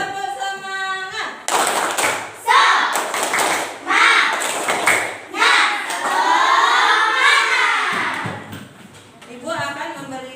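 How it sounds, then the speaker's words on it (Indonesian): Elementary schoolchildren in a Talango classroom repeat the tepuk semangat routine: sharp clusters of many hands clapping in rhythm, mixed with loud chanted voices. An adult speaks at the start. "Sekali lagi, tepuk semangat."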